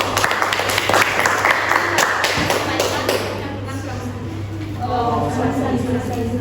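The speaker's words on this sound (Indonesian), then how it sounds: "Kasih tepuk tangan kelompok 4" Scattered hand claps from a classroom audience after a group presentation ring out for a few seconds and fade, followed by quieter background noise and a low hum.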